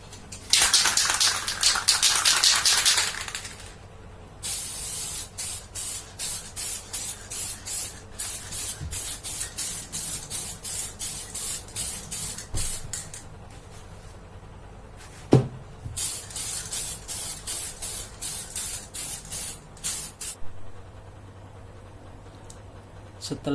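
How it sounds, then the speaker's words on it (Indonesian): Bursts of aerosol spraying plastic primer from a can onto a 2005 Yamaha Vega R motorcycle, a long hiss then many short repeated sprays with brief pauses, close and fairly loud, with an occasional knock. "Yang pertama, plastik primer dulu."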